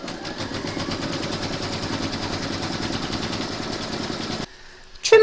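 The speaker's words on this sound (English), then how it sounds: "Pop your hoop into your machine and stitch round number 2 to secure it." An embroidery machine stitches an outline through batting in the hoop, a steady, fast mechanical chatter that runs evenly and close, then stops abruptly near the end, leaving a faint hum and a brief final clatter.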